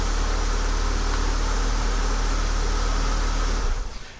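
A Ford vehicle engine, fitted with a plug-and-play remote start, idles with a steady low drone and then shuts off abruptly near the end, leaving a brief fading rumble.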